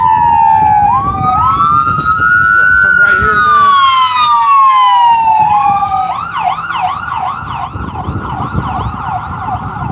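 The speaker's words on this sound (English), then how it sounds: "Damn ambulance." An ambulance siren passes close and loud, sweeping up and down in long wails before shifting into a rapid yelping warble, while someone speaks briefly over it outdoors.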